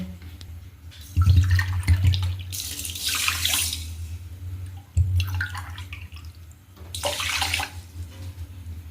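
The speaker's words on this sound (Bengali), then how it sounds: "এবার আমি 2 কাপ জল দিয়ে দেবো এর মধ্যে।" Water is poured into a pan of sugar to make rasgulla syrup, heard as two close, splashing pours of liquid with a gurgling stream and brief pauses between them.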